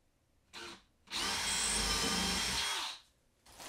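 A power drill boring into a wooden wall stud, a short whir followed by a longer steady high-pitched drilling burst, close and loud, with quiet pauses between.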